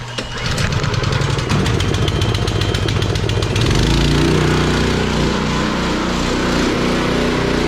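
Gas-engine pressure washer pump starting up and running steadily, a loud continuous motor drone with rapid pulsing that shifts to a deeper, smoother steady roar partway through, up close with no talking.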